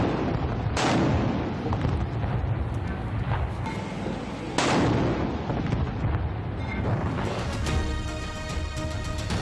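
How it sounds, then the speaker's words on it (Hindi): Artillery guns fire a 21-gun salute at Colonel Sher Khan Stadium in Peshawar on Pakistan Day. Heavy booms go off at intervals over a dense, noisy roar, and a tone-like layer rises near the end. "कर्नल शेर खान स्टेडियम पेशावर में भी 21 तोपों की सलामी दी गई।"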